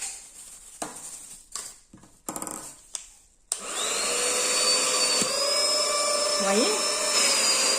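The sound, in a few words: vacuum cleaner sucking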